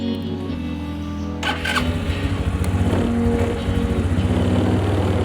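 A small scooter engine cranks over and catches about a second and a half in, then settles into a steady, close putter.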